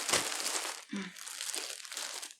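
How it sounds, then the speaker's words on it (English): Close, continuous crinkling of plastic bags, with rustles and a brief soft thump partway through, no voices. "These are really packed in a lot of plastic bags."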